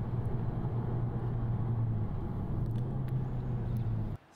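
A Kia Cee'd GT car drives along with a steady low engine and road rumble, a fairly loud, continuous drone heard from inside that cuts off abruptly near the end.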